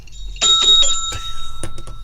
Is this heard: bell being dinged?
yes